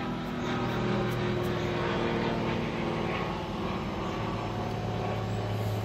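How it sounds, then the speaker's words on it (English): An airplane passing overhead outdoors, a continuous droning engine roar that stays loud and steady throughout with no talking. "we got a plane flying over"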